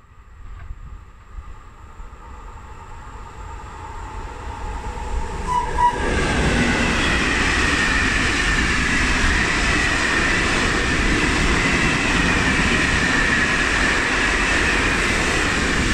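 A train passes through the station on track 2 at Anzola Emilia, its rumble swelling from a low approach into a loud, sustained roar of wheels and carriages that carries on steadily to the end.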